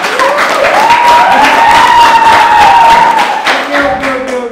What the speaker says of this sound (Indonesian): Tepuk tangan dulu untuk timnya.